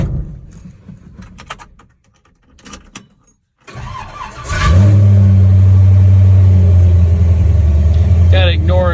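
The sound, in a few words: supercharged Chevy LUV engine cold start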